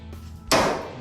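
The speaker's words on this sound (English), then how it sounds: "Now I'm just gonna use this little end of the screwdriver, the hammer here, to line it up." A hammer strikes the end of a screwdriver to line up a body panel on a new 1967 Ford Mustang build; one sharp, close metallic hit rings out after a faint earlier tap, then decays.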